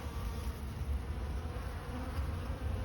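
Honey bees swarm over leftover honey and comb shards during a hive cleanup after a harvest, a dense, continuous buzzing hum heard close and steady outdoors.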